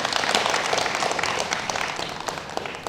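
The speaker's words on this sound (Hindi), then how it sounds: "तालियां होनी चाहिए इसके ऊपर।" A studio audience claps in sustained applause at an interview, an even wash of many hands that fades slightly toward the end, with no talk over it.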